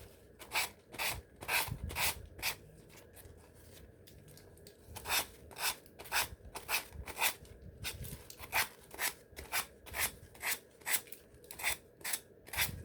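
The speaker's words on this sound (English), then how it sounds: "all you have to do is do down strokes on the edge with your gator, and it just cleans it right up" A sanding block (gator) rubs in repeated firm down strokes along the painted edge of a wooden farmhouse tiered tray, each stroke a sharp scratchy rasp, close and loud, in a steady rhythm with brief pauses.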